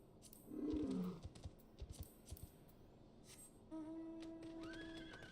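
A horse whinnies once, close and loud, followed by a few soft thuds and clicks. A thin tonal whistle comes in near the end.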